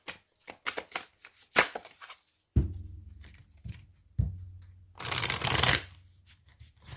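A tarot deck being cut and shuffled: a run of quick card flicks and riffles, two softer cascades with low thumps as the halves are set down, then a dense riffle burst near the end, close and clear with no talking.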